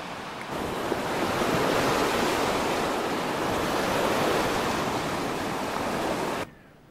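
Waves break on a beach on Ada Bojana island, near the Albanian border, as a loud, steady wash of surf that holds for about six seconds and then cuts off abruptly.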